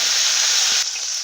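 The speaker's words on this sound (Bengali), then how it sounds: "ফুলকপিটা লাল লাল করে ভেজে এই একইভাবে ভেজে আমি সব সবজিগুলো সব ভেজে নেবো।" Cauliflower pieces fry in hot oil in a pan, making a loud, dense, continuous sizzle that eases slightly near the end.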